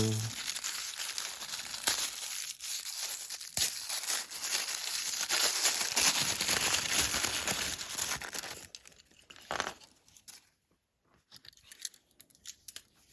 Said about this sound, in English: And the other piece of tissue paper.